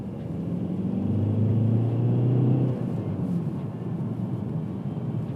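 An Audi A4 1.9 TDI Quattro with a six-speed manual gearbox drives along a road, its steady low diesel rumble and road noise constant throughout, loud and close as if heard from inside the car.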